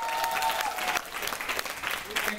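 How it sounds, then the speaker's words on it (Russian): An audience at a salsa trio performance applauds, a dense patter of clapping from the crowd, fairly quiet and brief, with a voice talking over it. "Аплодисменты еще раз."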